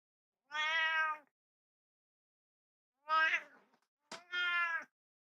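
A pet cat meowing loudly, three drawn-out, tonal meows separated by silence, close and clear with nothing else around them.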